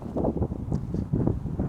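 Gusty outdoor wind buffets close and low in short, uneven rumbling bursts over a brief moment.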